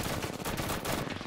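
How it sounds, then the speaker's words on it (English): Rapid gunfire crackles in Apex Legends, a quick burst of game shots packed into a brief loud moment, with no one talking over it. "Gunshots up ahead, you guys ready?"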